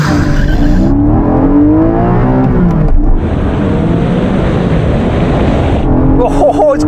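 A GR Supra, a Porsche Cayman GTS and an Alpine A110 S accelerate hard in a drag race. Engine note climbs through rising gear sweeps with a shift near the three-second mark, then settles into a loud, steady roar.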